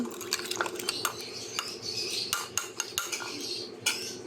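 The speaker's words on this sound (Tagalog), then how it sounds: "Haluin lang natin." Cucumber, pepper and sugar are stirred in a bowl, a spoon clinking and scraping against the sides in quick irregular taps with wet sloshing between, close and without talk.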